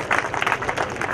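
Audience at a community sports event welcoming a chief guest with a burst of steady, dense clapping from a crowd, fairly loud and continuous.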